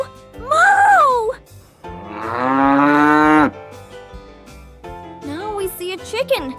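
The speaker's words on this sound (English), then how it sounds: "Here is a big cow eating grass. The cow says, moo!" A cow moos loudly and close by in a few long, drawn-out calls, one sustained low bellow in the middle, with a voice talking briefly between the calls.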